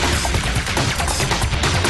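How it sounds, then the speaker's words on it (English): The Debris Impact Cannon at Texas Tech University fires a board into a test wall, a loud, dense burst of crashing noise filling the brief moment. "we have this cannon and we shoot boards through walls"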